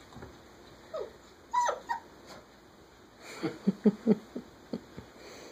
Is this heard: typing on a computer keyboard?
no